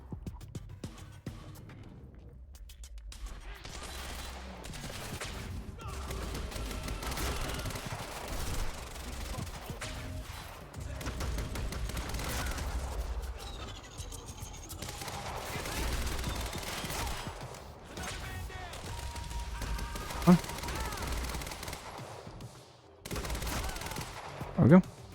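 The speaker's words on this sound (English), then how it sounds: "Fast SMG." Rapid SMG gunfire in the Quantum Break video game, repeated fast bursts and scattered shots over about twenty-five seconds, with a few louder impacts near the end.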